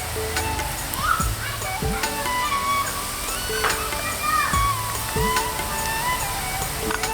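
Onions fried until red in a pan for a Telangana-style sorakaya boti curry, cooked in a village: a steady sizzle with repeated scraping stirs, while a voice talks faintly in the background.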